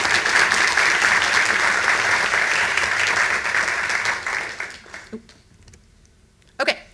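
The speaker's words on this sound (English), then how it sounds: "give her another round of applause" Sustained audience applause at a university computer science awards ceremony, a loud dense roar of clapping from a large crowd that fades out around five seconds, leaving a few scattered claps and quiet.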